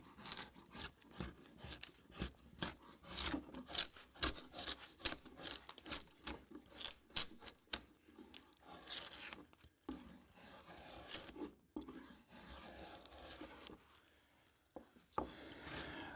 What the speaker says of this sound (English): So what I'm doing here is I'm using a draw knife